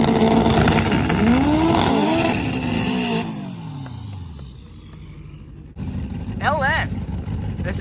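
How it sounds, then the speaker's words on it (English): A drag race car with a non-VTEC LS engine accelerates hard down the strip, its rising engine note sweeping up and fading into the distance, followed by quieter ambience and another engine rising near the end. "This is a non-VTEC LS engine, and it just puts in work."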